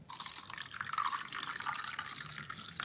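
Water poured into a glass holding squeezed ochre paint, making a steady close trickle and splash with faint dripping, no talking.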